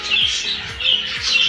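African lovebirds squawk loudly and close by in repeated harsh bursts, three main calls in quick succession with no one talking.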